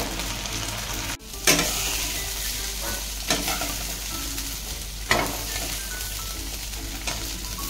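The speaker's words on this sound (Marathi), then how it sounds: "पुन्हा 2-3 मिनिटं परतून घेऊया." Cluster beans are sautéed in a kadhai, giving a steady oily sizzle broken by three or four louder scraping stirs of a spoon against the pan, close and clear with no voices.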